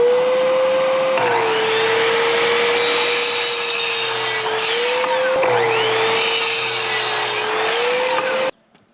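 An electric power saw whines steadily as it cuts pieces of wood to length for carpenter bee traps, with two rasping cutting passes under the motor drone before it stops abruptly.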